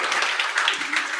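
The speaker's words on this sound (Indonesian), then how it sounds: "tepuk tangan dulu dong." A church congregation at a midweek service claps together, a dense even wash of applause lasting about a second, fairly loud and close with no voices over it.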